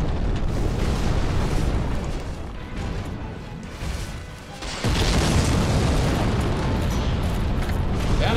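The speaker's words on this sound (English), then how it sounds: "so he throws the fire bombs too" Fire bombs hurled in Dark Souls burst into rumbling, booming explosions, dense and loud throughout, with a heavier blast about halfway through.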